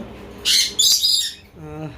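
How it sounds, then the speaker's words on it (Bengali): A rainbow lorikeet chick calls at a bird and pigeon market, two bursts of shrill, raspy squawks close by, followed by a softer, wavering chirp over a low background murmur. "রেনবো লরি পাখির বেবি বিশ হাজার টাকা পেয়ার"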